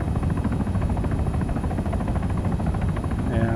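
Helicopter flying in the military video game Arma 3, a steady, loud, continuous rotor thump and engine roar throughout, heard alone and without pause.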